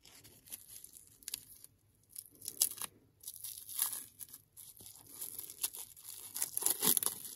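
Paper wrapping is torn open from a neutral soap bar, close up, in a series of crinkling rips and crunches that come in uneven bursts with brief pauses between them.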